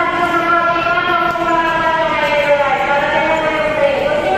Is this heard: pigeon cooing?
no